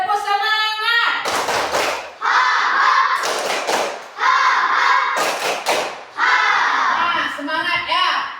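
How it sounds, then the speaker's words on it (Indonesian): Schoolchildren in a primary classroom doing a rhythmic clapping cheer, with bursts of chanted voices alternating with loud clustered claps and thumps in a repeating pattern. "Coba tepuk semangat."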